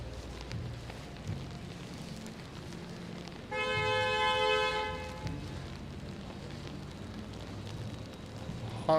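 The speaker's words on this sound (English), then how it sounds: "Honk honk." A car horn blasts in one sustained honk of about a second and a half amid downtown Toronto traffic during an evening snowfall, rising clearly above the steady street rumble and slushy tire noise.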